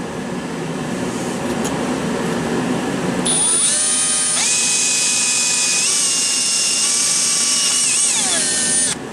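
A power drill whines steadily and loudly while driving screws during rock light installation on an Arctic Cat/Textron Alterra 500 side-by-side, its pitch dipping and rising in several stepped pulls as each screw seats.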